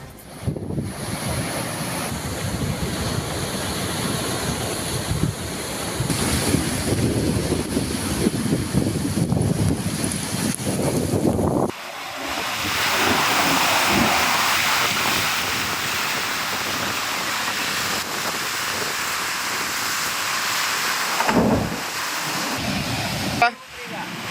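Sea waves and strong wind on the Karwar coast during heavy rain, a loud continuous roar of surf mixed with buffeting wind noise on the microphone, with an abrupt shift in texture midway.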